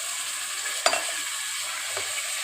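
Soaked chickpeas go into hot masala in a pan, a steady high sizzle with a sharp clatter as they drop in and a softer stir moment later, no voices.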